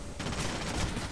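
Gunfire in the stealth video game Splinter Cell Conviction comes as a short, dense burst of rapid shots filling the whole moment.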